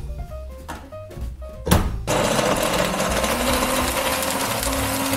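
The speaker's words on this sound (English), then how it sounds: "Back to blending." A kitchen blender mixing non-dairy eggnog starts after a few knocks and thumps, then runs as a loud, steady whirring drone for three seconds.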